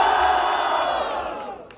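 Audience at a Brazilian freestyle battle rap event roaring with cheers and shouts in a dense, loud burst of crowd noise that fades slightly toward the end.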